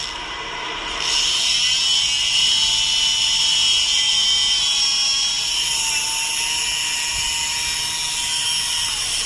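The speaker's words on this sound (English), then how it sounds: "I sand down to a certain layer. If I go deeper than that, the skin won't grow back." High-pitched, steady whine of a dermabrasion tool sanding facial skin, starting after a second and holding loud and continuous with slight shifts in pitch, with no talking.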